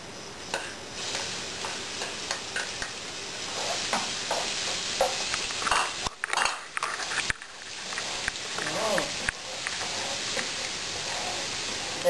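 Garlic sizzles and crackles steadily in hot olive oil in a pan, with occasional stirring clicks and a brief pause midway, fairly close and continuous.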